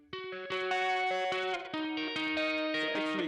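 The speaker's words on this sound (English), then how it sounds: "it's actually kind of ugly distortion" Harsh, ugly distortion effect on a mix track, sustained buzzy chords with gritty overtones changing a few times, loud and alone.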